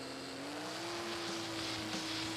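A race car engine holds a steady high idle before the start of a race, a faint continuous drone that rises slightly in pitch, with no talking.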